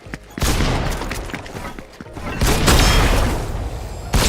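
Gunfire in the video game Fortnite, bursts of loud booming shots and crashing impacts, a short gap then a long sustained barrage, close and dense.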